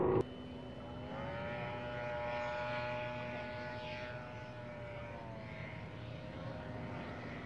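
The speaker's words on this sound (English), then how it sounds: "No, I'm sorry, that's the Belite that took off a few moments earlier." A Belite Pro Cub Lite Part 103 ultralight aircraft flies at the Sun & Fun airshow. Its small engine gives a steady droning whine at moderate distance, with pitch wavering as it passes and no talking over it.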